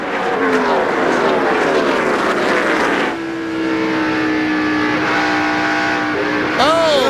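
NASCAR race cars screaming around a speedway during the 2002 UAW GM Quality 500, several loud engines overlapping and passing with falling pitch, under a commentator's voice throughout.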